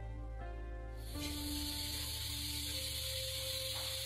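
A pressure cooker of beans for a vegan feijoada builds up and releases a loud, steady steam hiss that starts abruptly and continues close and alone.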